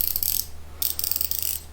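Two short bursts of very fine, fast clicking from an Olsa Tools quarter-inch swivel head ratchet, bright and close, with a brief gap between them.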